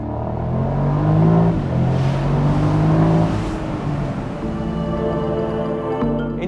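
A Mercedes-Maybach SL 680 engine in sport mode with exhaust flaps partly open revs up and settles, a deep loud drone rising and falling in pitch.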